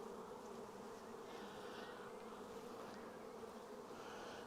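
Dense, steady buzzing of many honey bees close by on a hive frame, a continuous drone with no talking.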